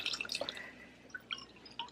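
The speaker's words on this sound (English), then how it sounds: "And then we're actually going to add water." Water trickles and drips into a pot of soup already holding chicken stock, a faint, splashy patter with scattered bright droplets, heard alone without talk.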